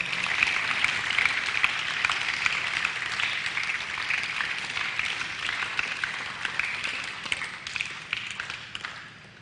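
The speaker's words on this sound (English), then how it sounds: "Give a round of applause." Applause from an audience at the opening of a tennis complex, a steady dense patter of many clapping hands lasting several seconds, fairly close and fading slightly toward the end.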